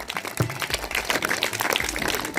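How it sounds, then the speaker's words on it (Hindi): Clapping from an audience at a retirement ceremony for a teacher, a dense, steady patter of many hands at moderate distance, somewhat muffled, continuing without break for the whole stretch. "जोरदार तालियां बजा रहे हैं।"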